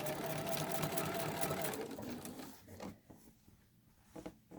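A sewing machine stitches a single line across a spray-basted quilt, running as a steady, fairly loud whirring drone for about two seconds before slowing and stopping, with quieter handling noise afterward.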